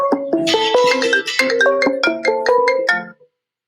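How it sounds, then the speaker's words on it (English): A phone plays a bright melodic ringtone for an incoming call, a quick run of electronic notes that repeats loudly for about three seconds before cutting off. "Getting a phone call."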